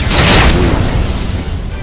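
In Octopath Traveler II a fire attack spell lands as one loud, whooshing boom that peaks early and then fades into a low, rumbling decay, with no speech.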